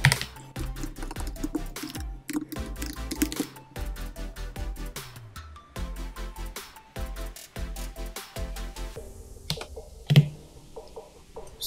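Someone types on a computer keyboard in close, fast bursts of crisp key clicks with brief pauses, including a sharper, louder tap near the end, and no one speaks.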